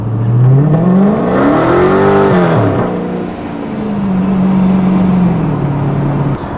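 Turbocharged car accelerating hard with wheel spin, a loud close engine note rising through a gear, dropping at a shift, then climbing again and holding steady, no talk.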